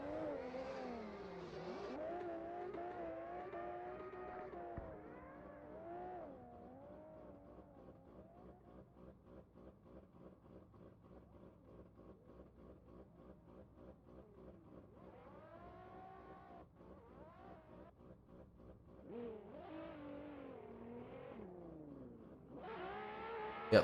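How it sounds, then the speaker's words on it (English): A big BMW drift car on a practice run at a Mondello Park drifting event, engine revving and wailing up and down in pitch, fading to a distant steady drone, then surging loudly again near the end. "There he goes in that big BMW for his practice run."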